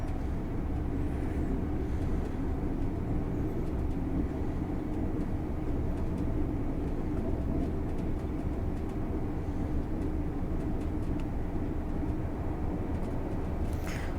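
A steady, dense rumble of an Azuma train under throttle on the East Coast Main Line in Train Sim World 5 holds evenly throughout, with no voices over it.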